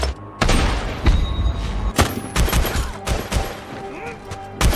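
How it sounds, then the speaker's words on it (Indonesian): Gunfire from an action movie shootout, with rapid, loud shots and heavy booming bursts one after another, a few sharp cracks standing out above a dense, chaotic din. "Owen tiba-tiba langsung menembak Henry beserta anak buahnya"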